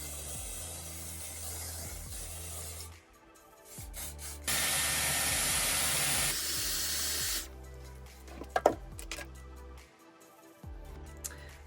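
Hairspray is misted onto curled hair in one steady hiss of about two seconds, close and clear, set among quieter rustling and handling sounds with no speech.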